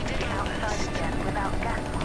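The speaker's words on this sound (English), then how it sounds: "The helicopter is here." Helicopter in the video game Striden, a steady broadband rotor and engine drone that holds at a constant loudness throughout, with voices faintly mixed in.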